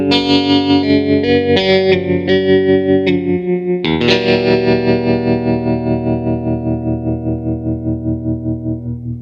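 Deep, low-pitched baritone electric guitar notes pulse with a steady wavering tremolo effect, a few picked notes followed by a long sustained chord throbbing rhythmically.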